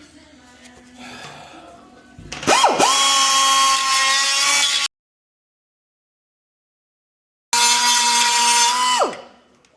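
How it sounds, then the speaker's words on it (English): A die grinder cleans up a steel suspension frame in two loud, close bursts of high whine, each spinning up sharply and winding down, separated by a few seconds of silence after some quiet handling noise. "I'll just clean that up with the die grinder"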